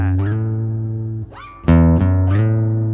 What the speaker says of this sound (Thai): ดีดสาย6สายเปล่าครับ สาย6ช่องที่ 2 สไลด์มาช่องที่5